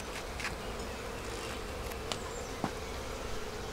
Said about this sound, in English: there is a bunch of bees rolling down the side now